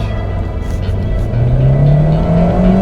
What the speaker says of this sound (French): je mets la première, tu me fais ronronner le moteur